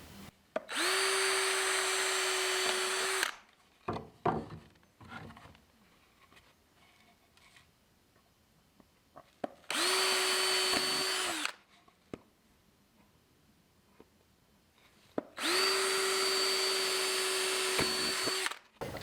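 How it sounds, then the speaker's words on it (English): Power drill boring holes in 3/4 inch wood, three separate bursts of loud, whining motor sound of about two to three seconds each, separated by quieter gaps with faint handling clatter. "I'm gonna drill all the holes right now"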